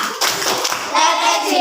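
Schoolchildren in a classroom clap a quick PPK rhythm in unison, a short run of sharp, close hand claps with young voices mixed in.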